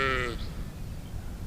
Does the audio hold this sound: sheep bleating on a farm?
yes